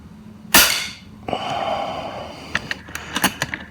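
A Sideshot slingshot fires with one sharp, loud snap, followed by a quieter clatter of handling and several small knocks.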